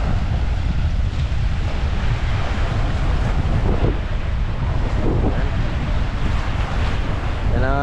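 Stormy sea seen from a moored fishing motherboat during a typhoon: strong wind buffets the microphone over constant crashing waves, loud and unbroken throughout.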